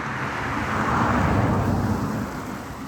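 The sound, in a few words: truck driving past fast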